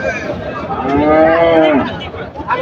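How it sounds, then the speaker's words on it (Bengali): A single loud, close moo from a bull at a busy rural cattle market in Chandaikona, rising and falling over about a second amid faint background crowd noise. "আজকে কিন্তু প্রচুর গরু হয়েছে প্রচুর গরু"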